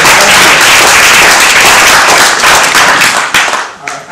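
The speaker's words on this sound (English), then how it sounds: "Can we give a round of applause for a friend of Washington?" Audience at a climate change panel in Durham bursts into dense, loud applause, sustained clapping that thins out with a few last claps at the end.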